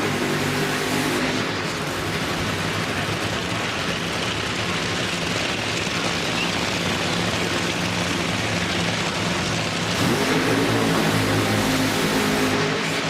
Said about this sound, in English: First, it's Ron Capps to the water box, then John Force.